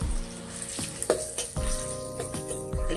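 Onions, green chilies and whole garlic cloves sautéing in a hot pan for Tamil chicken rasam and fry, a steady close sizzle broken by several sharp crackles and stirring clatters.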